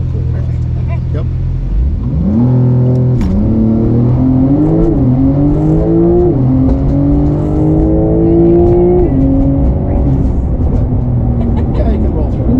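A Porsche 911 idles, then launches at wide open throttle on a test track, pitch climbing through several gear shifts in a loud, sustained roar.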